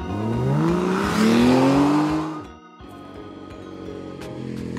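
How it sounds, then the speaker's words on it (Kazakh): A motorcycle engine revs up with a rising whine, holds loud and close, then cuts back sharply to a lower idling putter. "Мотоцикл."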